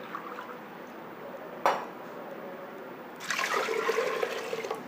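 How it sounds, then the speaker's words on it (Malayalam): Water is poured into a bowl of njavara rice, a brief splash followed by a steady gurgling stream of liquid filling the bowl, close and fairly quiet. "ആവശ്യത്തിന് വെള്ളം ഞാൻ ചേർത്ത് കൊടുക്കുകയാണ്."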